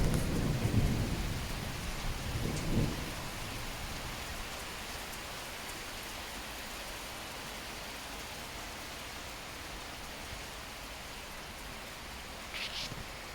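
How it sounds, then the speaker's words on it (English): Heavy rain pouring down in France, a dense steady hiss of downpour filling the whole span, with low rumbling thunder at the start. "It's raining in France, which we didn't really want. It is absolutely pouring down now."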